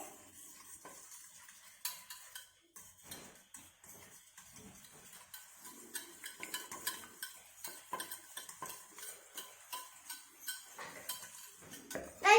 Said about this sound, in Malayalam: ഇതിലേക്ക് നമുക്ക് കുറച്ച് ഉപ്പിട്ട് കൊടുക്കാം കേട്ടോ. അപ്പൊ നമുക്ക് ഇതൊന്ന് നന്നായിട്ട് മിക്സ് ചെയ്ത് കൊടുക്കേ